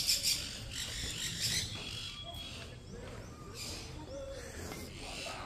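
Many birds calling in a bird park, with bright chirps and whistles scattered over a soft outdoor background, fairly faint and at a distance.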